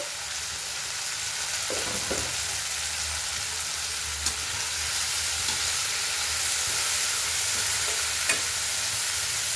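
Broad beans fried and stirred in a pan with salt and spices, giving a steady close sizzle with occasional scraping clicks of a spoon through the whole stretch.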